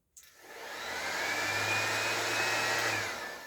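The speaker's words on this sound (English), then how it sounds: "I loves me some DeWalt orbital disc sander." A DeWalt 3-amp orbital disc sander spins up and runs with a steady, smooth whir, starting after a brief click and holding a constant, fairly loud drone with no talking.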